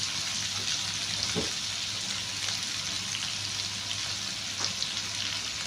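Ginger pieces, a few green chillies and onions fry in a pan with a steady, close sizzle and crackle running throughout, no voices over it.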